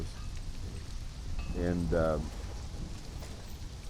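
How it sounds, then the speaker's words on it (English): Steady rain hisses throughout a stormy scene in the video game Conan Exiles, a dense wash of downpour with someone speaking briefly over it midway. "It's raining like hell."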